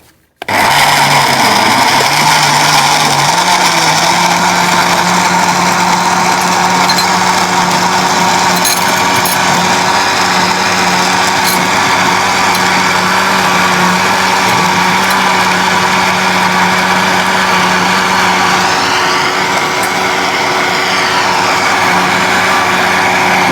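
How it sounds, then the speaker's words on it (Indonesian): A kitchen blender runs continuously, loud and steady, mixing warm water with honey into a yellow health drink, its motor whine holding a constant pitch with slight shifts as the load changes. "Kemudian kita blender."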